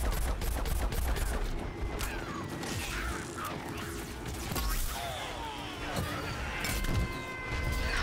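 Gunfire and crashing blasts in the video game Plants vs. Zombies Garden Warfare 2, with dense bursts of shots, impacts and game effects running continuously at a fairly even level.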